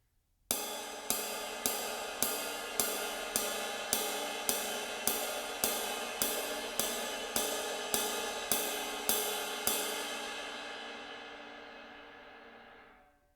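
A jazz ride cymbal struck in even quarter notes, about sixteen bright, regular pings with a sustained shimmering wash that rings out and fades at the end, played alone with no talking.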